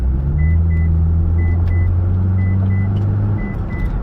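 A Mitsubishi Eclipse engine runs steadily up close, a low continuous rumble with a faint shake and a steady hum throughout, with no talking over it.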